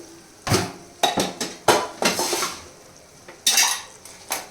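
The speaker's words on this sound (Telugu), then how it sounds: "పచ్చడిని బాగా కలుపుకుందాం" A spoon scrapes and clinks against a bowl while mango pickle is stirred, giving about a dozen sharp, close strokes in an uneven rhythm, with no voices.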